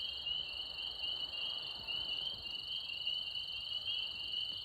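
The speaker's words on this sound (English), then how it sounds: "See another leopard frog right there." Leopard frogs call at night in Georgia under a steady, shrill chorus of insects, with a low, rough layer of croaking filling the background for the whole stretch and no voices.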